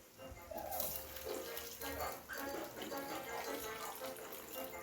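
Water splashes and gurgles steadily as it is poured into a pot for sinigang, a continuous close pour with soft clinks and no speech.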